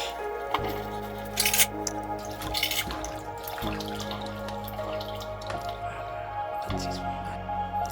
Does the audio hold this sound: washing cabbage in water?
yes